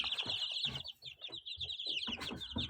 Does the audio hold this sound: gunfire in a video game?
no